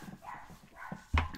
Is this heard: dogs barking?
yes